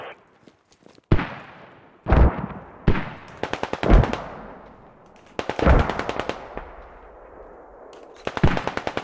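Bursts of automatic rifle fire in the military shooter Squad, several loud close volleys of rapid cracks separated by short pauses, with echoing tails and no talk.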